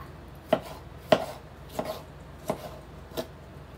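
A knife chops tomato on a cutting board in five distinct, evenly spaced strokes, close and crisp, with no talking.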